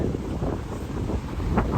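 Strong wind at a rough sea shore, a loud continuous buffeting roar that batters the microphone throughout, with crashing surf folded into the noise and no clear speech.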